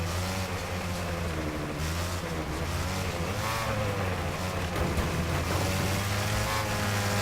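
A race car engine in the Wreckfest racing game drones steadily and loudly while accelerating, its pitch climbing in long sweeps over a continuous roar.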